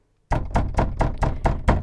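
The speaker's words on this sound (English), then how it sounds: "There was a loud knock on the door" A loud knocking on a door at night: about seven heavy, evenly paced thuds that begin suddenly after silence, close and forceful.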